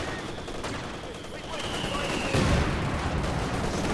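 A Katyusha rocket artillery barrage in Company of Heroes 2 rolls in amid battle noise, with a rising whistle followed by a dense cluster of rumbling impacts over continuous distant gunfire.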